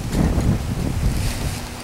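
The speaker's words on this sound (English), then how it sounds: "Sorry about the wind. It's a little windy outside today." Gusty wind buffets the microphone outdoors, low rumbling bursts rising and falling without letup.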